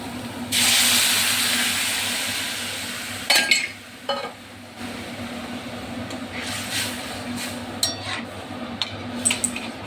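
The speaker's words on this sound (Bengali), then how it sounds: "তো ডালটা তো দিয়ে দিলাম, এখন ডালটা খানিকক্ষণ ফুটুক।" Dal (lentils) boiling in a pot on a home kitchen stove gives a steady hiss of steam and bubbling that holds throughout, broken by a few short clinks of utensils partway through.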